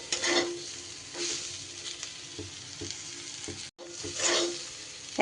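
Ivy gourd (kundri) frying with poppy and sesame seeds in a pan, a steady close sizzle broken by occasional stirring scrapes and a brief pause, no voices.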